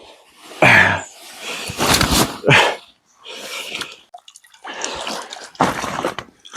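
A carp is released back into the water during a fishing session, with several close splashes and wet slaps in short bursts separated by brief pauses.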